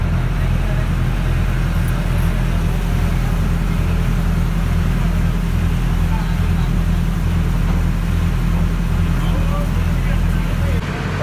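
A motorboat pulls away carrying passengers, with a loud, steady engine drone and low rumble that holds without a break throughout. Faint voices sit under the engine.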